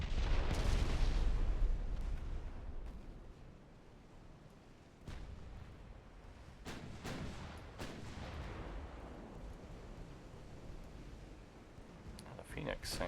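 Secondary guns on a warship in Ultimate Admiral Dreadnoughts, set in 1906, firing in a heavy opening boom followed by repeated sharp reports and a rumbling barrage, with a voice speaking over the gunfire.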